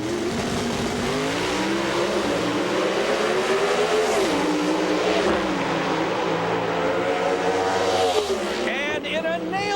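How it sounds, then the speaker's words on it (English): Pro stock drag race car roaring at full throttle in a final round at the 1999 NHRA Sears Craftsman Nationals in St. Louis, a loud sustained engine howl with shifting pitch, cutting off near the end, under commentator talk. "That is a brand new race car."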